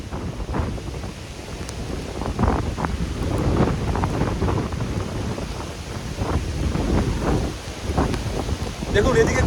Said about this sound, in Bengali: জাস্ট প্রচুর জোরে হাওয়া হচ্ছে